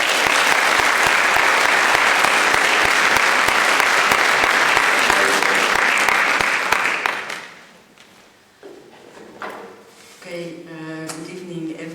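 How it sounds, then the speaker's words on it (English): Audience applause welcoming a speaker to the stage at a sociology talk on microdosing psychedelics, dense and steady for about seven seconds before fading out into quiet room noise and a voice beginning to talk. "to the stage with a grand applause"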